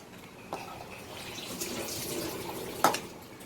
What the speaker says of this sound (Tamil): இப்போ கார்ன்ஃப்ளவர் மாவு, மைதா மாவு, கோதுமை மாவு இதெல்லாம் கலந்து அப்படியே ஊற்றுறோம்